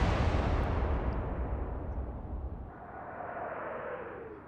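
15-inch armor-piercing naval shells fired in the Atlantic Fleet game with Royal Navy guns, a single heavy boom that rolls out into a long, fading rumble, alone and fairly loud.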